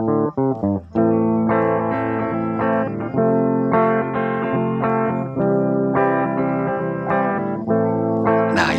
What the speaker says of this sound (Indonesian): Kita akan mendengarkan suara gitar saja ya